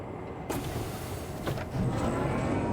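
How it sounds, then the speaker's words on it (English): Tram doors sliding shut at a station in the space game Star Citizen, a sharp door clunk followed by a rising motor hum as the tram pulls away, heard without speech. "Tram now leaving the station."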